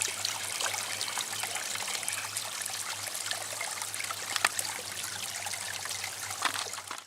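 Clear spring water trickling out of a limestone block at a forest bivouac, a steady continuous babble close by with no voices.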